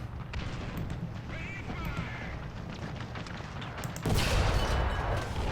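Artillery shells burst around a tank in War Thunder tank combat, a T-35 land battleship: rumbling background battle noise, then a sudden loud, close explosion near the end that leaves a heavy sustained roar.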